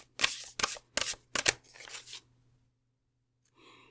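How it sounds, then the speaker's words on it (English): A deck of cards shuffled for a card reading gives four quick riffling bursts and a softer trailing flutter, close by, followed by a short pause and a faint rustle. "I'm actually going to do another shuffle"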